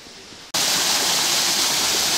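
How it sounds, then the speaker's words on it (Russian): Waterfall running lower than usual after a dry spell, a loud, steady broadband rush that bursts in abruptly after a short quiet stretch and holds constant. "А вот и сам водопад."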